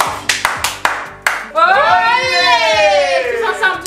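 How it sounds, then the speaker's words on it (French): A few hand claps, sharp and close, ring out in a row before a voice breaks into a drawn-out, wavering sung or crying-like tone that carries to the end. "Donc on applaudit franchement ce hall."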